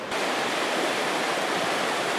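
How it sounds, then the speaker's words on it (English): A river running high after a night's rise, a dense, loud and constant rushing roar of water heard close by at a gold prospecting spot, with no voices. "So here's the river."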